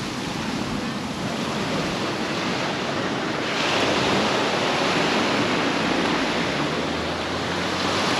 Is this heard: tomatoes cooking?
no